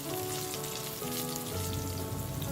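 Red bird's eye chilies and garlic sizzle in hot oil in a wok, a dense, steady crackle close by with no voices.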